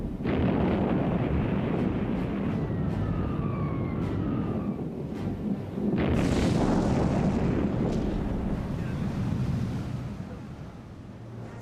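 Bombs explode during the 1940 Italian air raids on Malta in archival war footage, heavy rumbling blasts and roaring noise, loud and continuous, with a second surge midway.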